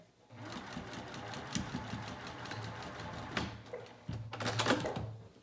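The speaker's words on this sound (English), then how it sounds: "So I just sewed from the dot at the top of the pocket" A home sewing machine stitches a pajama pant pocket seam in short, whirring bursts with brief pauses and a louder final run, close and clear with no talking.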